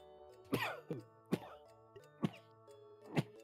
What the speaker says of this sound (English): that's me sneezing